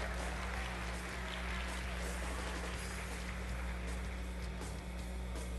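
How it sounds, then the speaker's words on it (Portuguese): Steady applause from an audience at an event, a dense, even wash of clapping running continuously without voices. "Un aplauso."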